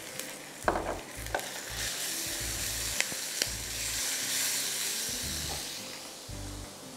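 Green chillies and meat sizzle loudly in a hot pan for kunna, a steady close frying hiss broken by occasional stirring clinks and scrapes, with no talking.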